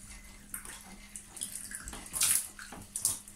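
Hot water from a tap fed by a newly installed boiler runs and splashes in short bursts, close and fairly faint, with intermittent gushes and drips.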